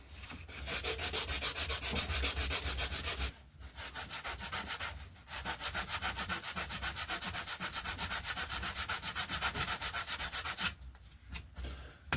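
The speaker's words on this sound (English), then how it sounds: "I'll hit it with the sanding block" Sanding block rubbed steadily across the balsa wing of a Coyote RC glider, a close, continuous scratchy rasp in long strokes, broken by two short pauses and a quieter stretch at the end.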